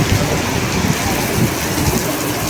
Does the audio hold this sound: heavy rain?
yes